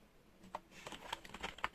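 Keys clack in quick, irregular presses on a Rampage Rapido Plus KB R03 semi-mechanical RGB keyboard, a soft, close and fairly quiet patter of short taps with no talking.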